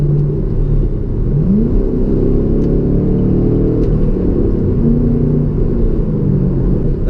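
Chevrolet Camaro V8 engine in a heavy car, giving a steady, loud, low rumble with a slowly shifting pitch that holds throughout, with no talking.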